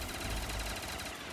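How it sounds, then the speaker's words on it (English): An RPK machine gun fires in a rapid, dense, continuous burst in Call of Duty Black Ops 3 Zombies on a Minecraft-themed custom map, loud and up close with no talking. "Let's mow him down with the RPK."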